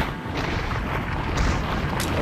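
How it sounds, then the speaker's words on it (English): Rapid machine gun fire from a weapon in the Resident Evil 4 VR video game, a dense continuous rattle of shots running loud and steady throughout with no talking. "So I actually want to try this machine gun real quick."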